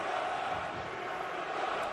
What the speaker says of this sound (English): The crowd giving New York the business.